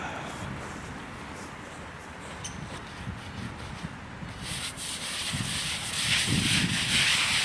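A small brush scrubbing a weathered headstone gives a steady, close rasping rub that grows louder and brighter toward the end, with no talk.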